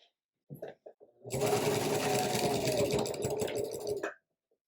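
A sewing machine stitches a tree quilt in one continuous run of about three seconds, a fast humming whir after a few quiet taps and handling sounds, stopping abruptly.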